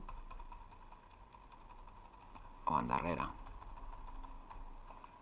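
Arrow keys on a computer keyboard are pressed in a quiet room as video editing software is used, producing faint, sparse clicks under a low steady hum while someone speaks briefly.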